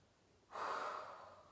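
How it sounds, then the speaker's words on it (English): A single full, deep breath taken during a gentle yoga session, one airy exhale swelling in after a quiet moment and slowly fading, close and soft. "Full breath."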